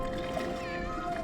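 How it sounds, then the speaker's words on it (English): Cartoon cat meowing underwater near an undersea palace, a drawn-out wavering wail that bends up and down over a watery bubbling background. "Would someone shut that cat up?"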